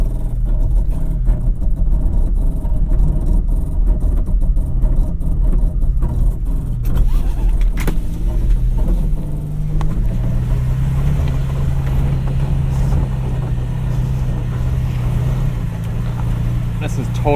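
A Ford Maverick's engine drones and revs while it pulls a stuck Toyota Tacoma TRD Pro out of thick mud, a loud sustained rumble that rises in pitch near the end, with voices talking over it at times.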